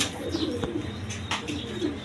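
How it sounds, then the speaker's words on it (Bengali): Soft low cooing from a pair of pigeons, a Huma female and a Danish male, comes in a couple of faint rolling calls over steady background noise with a few light chirps. "মাদিটা হইলো হুমা কবুতর আর নটটা হইলো ডেনিশ"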